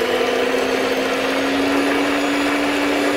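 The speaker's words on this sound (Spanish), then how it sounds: "Agacharemos nuestra batidora y lo estaremos batiendo a velocidad lenta" An electric hand mixer whirs steadily at low speed as it beats four eggs in a bowl, a continuous close, even motor hum with no talking.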